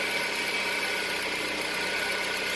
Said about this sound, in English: So now the engine is running